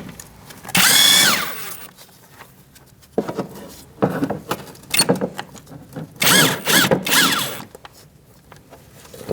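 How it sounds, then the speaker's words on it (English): Power tool with a 10mm socket backing out bolts on a 2.4L 2002-2006 Toyota Camry during a water pump replacement, several loud close whirring bursts of varying length separated by quieter clicks and handling noises. "Using a 10mm socket, we're going to remove this bolt and this bolt."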